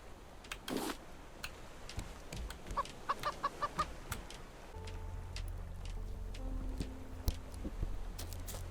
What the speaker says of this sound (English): when a chicken makes that that means he has laid an egg